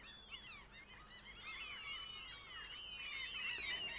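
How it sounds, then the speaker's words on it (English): Faint, distant gull-like bird calls, overlapping squawks and cries rising and falling against a quiet outdoor background. "Noisy seagulls."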